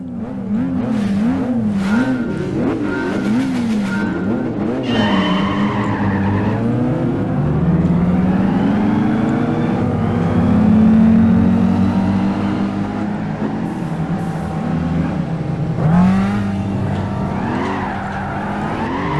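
A racing car engine in the Gran Turismo 5 video game roars and revs continuously, pitch rising and falling through gear shifts, with tire squeals mixed in, loud and up close.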